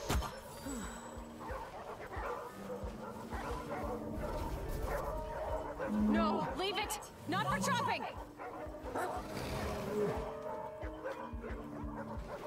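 Puppies in The Red Lantern, a dog-sledding game, yip and bark in scattered bursts with a few whimpers, mixed with game sounds while someone talks excitedly over them.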